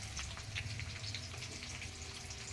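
Onions frying in a pan give a soft, steady sizzle with faint crackles, quiet and continuous with no voices.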